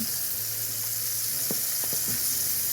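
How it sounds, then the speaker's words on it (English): A dredged pork chop searing in a pan over high heat for Southern smothered pork chops gives a steady, loud hiss of sizzling oil throughout, with a few faint pops and clicks close by. "I got this on high heat, guys, because I want a nice sear"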